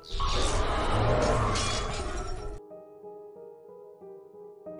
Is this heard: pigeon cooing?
no